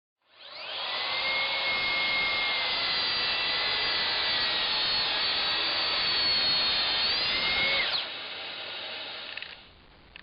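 A Makita track saw cuts through wood in one loud, sustained whine lasting several seconds, then drops to a lower coasting hum as the blade winds down, with no speech.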